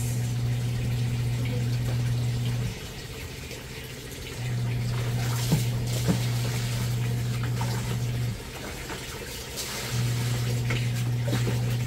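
Water runs steadily into a washing machine tub as it fills, with a low pump hum cycling on and off, pausing twice before resuming.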